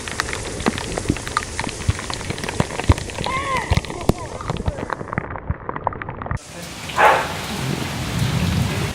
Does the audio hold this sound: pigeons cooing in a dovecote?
no